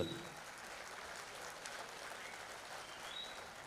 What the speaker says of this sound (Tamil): நம் கைத்தட்டல் அவர்களை ஊக்குவிக்கும்